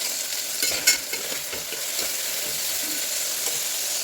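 Tomatoes sautéing with a little salt in a pan give a steady broadband sizzle, with a few soft stirring scrapes and clinks rising briefly near the start.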